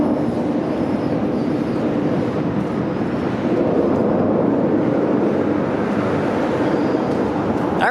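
A train rumbles past near Toronto's Mount Dennis station in a steady, continuous roar of rolling wheels and noise that holds at the same loudness throughout.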